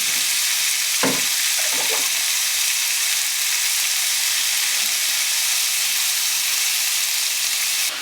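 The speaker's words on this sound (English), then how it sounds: "So the bacon's cooking away" Bacon sizzles steadily in butter in a pan, a loud continuous frying hiss with a couple of brief clatters near the start, otherwise close and unbroken with no talk.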